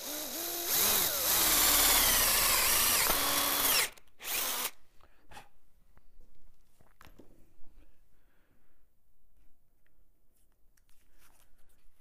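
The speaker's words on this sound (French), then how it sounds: "Il peut maintenant percer un petit trou avec le forêt à métal." Power drill with a metal bit boring a small hole in a café racer clip-on handlebar, a loud steady whine with pitch shifts for about four seconds, then stopping into quiet workshop handling noises.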